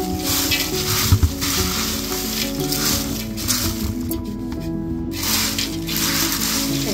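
Spiced corn chivda being stirred in a hot pan gives a continuous loud sizzle with scraping and rustling of the flakes and a couple of sharper knocks against the pan.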